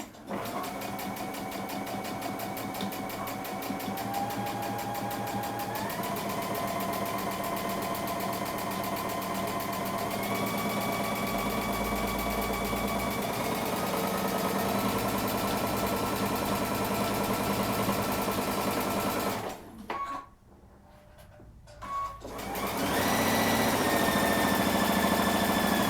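A sewing machine stitches a Halloween tote bag with a steady, fast mechanical whir that runs unbroken for long stretches, stops briefly, then starts again.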